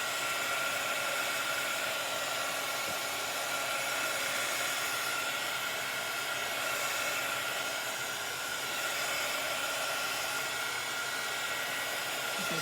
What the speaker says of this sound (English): close your ears because I'm going to use the dryer